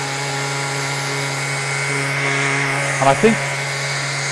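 Festool RTSC cordless sander running with 80 grit granat mesh, a steady buzzing motor hum throughout with someone talking briefly over it near the end.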